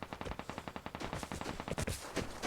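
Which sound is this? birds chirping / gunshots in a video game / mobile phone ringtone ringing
gunshots in a video game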